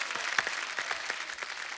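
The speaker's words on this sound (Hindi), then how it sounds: "एक बार जोरदार तालियां हो जाए हमारे मेहमानों के लिए" A studio audience at a comedy talk show claps for guest doctors, a brief burst of dense, steady applause heard alone from a moderate distance.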